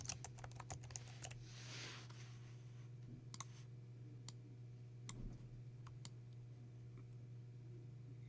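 Computer keyboard typing entering a first and last name as a single line of text, with scattered light clicks over a steady low hum, quiet and close, no talking.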